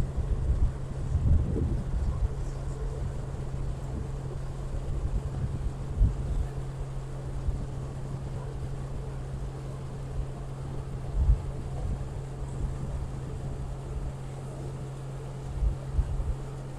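A boat powered by a 2016 Suzuki four-stroke 200 hp outboard runs at a low, steady drone, quiet and smooth, blended with wind buffeting the microphone and water noise throughout.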